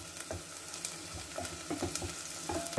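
Golden-brown caramelized onions fry and are stirred in a pan, a steady close sizzle broken by repeated scraping stir strokes, with no voices.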